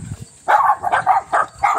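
A dog barks in a quick series of four or five sharp, close barks, with a brief soft noise before them.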